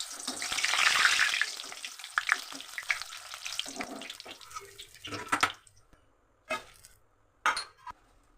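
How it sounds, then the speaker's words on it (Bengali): Small batches of flattened rice hit hot oil in a wok with a loud burst of hissing that fades into crackling, then scattered clinks and scrapes of a ladle or strainer. "তেল গরম হয়ে গেছে, এবার অল্প অল্প চিড়ে নেবো।"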